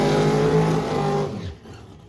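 A 1966 Pontiac GTO on slicks at a Michigan drag-and-drive event, a loud engine roar that holds and then fades quickly as the car pulls away.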